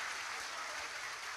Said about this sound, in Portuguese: Let's give all these underpaid actors a hand of a clap.